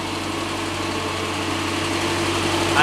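A steady, low engine idle hums and vibrates evenly throughout, close by and constant, with no voices.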